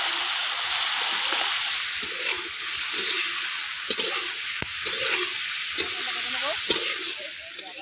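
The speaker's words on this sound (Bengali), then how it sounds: "আমরা এবার একটুখানি মাছটা ভেজে নেব কড়া করে একটু হালকা।" Fish sizzling and frying in white oil in a pan, a steady hiss across the whole stretch with occasional stirring scrapes and pops, close and fairly loud, no talking.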